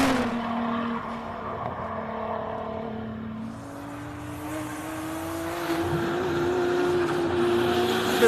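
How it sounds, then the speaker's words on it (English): Race cars climbing the course at the Simola Hillclimb, engines droning in the distance with rising pitch as they accelerate, a steady mechanical roar that grows louder toward the end, heard alone without talk. "Wow, don't these cars sound so good up there?"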